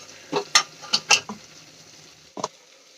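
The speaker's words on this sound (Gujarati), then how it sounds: "અને વચ્ચે વચ્ચે આ રીતે હલાવતા રહેવાનું, જેથી કરીને નીચે ગ્રેવી આપણી ચોંટવા ન લાગે।" A few sharp, separate clinks and scrapes of a spoon stirring onion gravy as it sautés in a pan, spaced irregularly over a quiet background, with a short double clack near the end.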